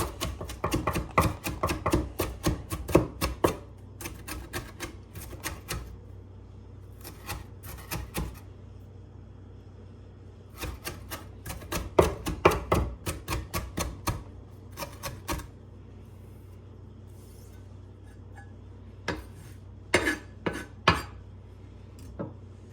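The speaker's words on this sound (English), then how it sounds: "It has to be chopped by hand or you get the wrong texture" Fresh tabbouleh herbs chopped by hand with a knife on a cutting board, rapid bursts of crisp close knocks in quick rhythmic runs, separated by pauses and a few scattered single taps.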